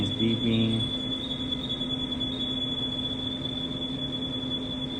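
An Airo intraoperative CT scanner beeps during a scout exposure, giving a steady high-pitched electronic tone that holds for the whole stretch, with a brief lower tone layered in at the start.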